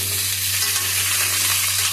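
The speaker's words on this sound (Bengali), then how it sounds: "আর কেটে রাখা আলুগুলোকে ওই তেলের মধ্যে দিয়ে দিয়েছি" Cut potatoes frying in mustard oil in a wok give a steady, close, loud sizzle with no break across the short stretch, and no voices.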